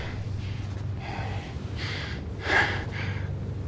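Heavy, audible panting from a person adjusting a microphone at the start of a live horror-story transmission, a few breathy gasps and snorts over a steady low background hum, close and fairly quiet.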